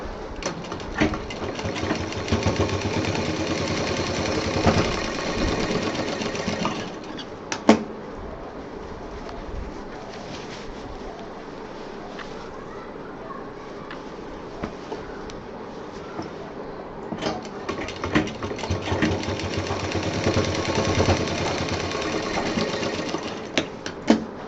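A sewing machine runs fast, steady stitching along the bottom of a fabric bottle case, close and continuous, pausing briefly twice with small clicks before resuming its rapid whir.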